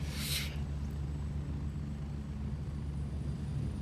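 A helicopter in a jungle warfare video game hums as a low, steady engine drone throughout, with a brief airy burst at the start.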